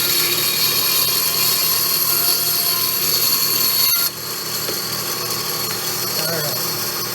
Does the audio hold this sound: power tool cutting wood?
yes